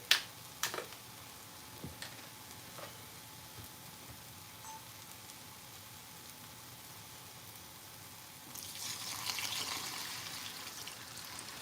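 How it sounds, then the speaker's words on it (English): Water pours into a cooking pot of Egyptian freek in tomato sauce. It starts after a few faint clicks in a quiet kitchen and runs as a soft, steady splash near the end. "now let's add some water"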